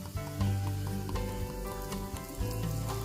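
Cumin seeds and asafoetida sizzling in hot oil left over from frying cashews, a close, loud, continuous crackle and hiss with sharp pops, no voices.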